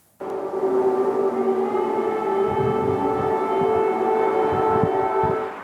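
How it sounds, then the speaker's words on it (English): An air raid siren wails over Kyiv, a loud sustained steady tone that holds without pause, with faint rumbling traffic beneath it. "Air raid sirens are nothing new for the residents of Kyiv"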